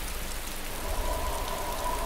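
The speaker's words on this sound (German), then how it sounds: "wir stehen halt mitten im Regen und es wird dunkel" Steady rain falls in DayZ as a dense, even hiss of drops with a faint tonal hum underneath, constant throughout with no voices.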